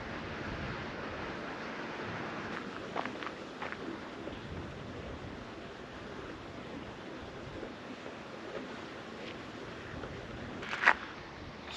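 Steady wind by a canal near the Falkirk Wheel, a broad constant rush across the whole stretch with a few brief gusty buffets, one sharper bump near the end.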